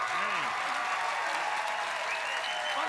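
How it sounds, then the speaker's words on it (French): Studio audience applauding the contestants on a Quebec game show, a dense steady patter of clapping with voices and a whoop riding over it throughout. "Hey, applaudissez-les, ils travaillent fort."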